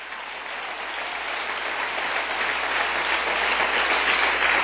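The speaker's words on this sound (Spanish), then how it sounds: "Dale un aplauso bien fuerte al Rey bendito." A congregation at a church service applauds loudly, a broad, steady roar of many hands clapping that builds slightly in intensity and carries on without talk.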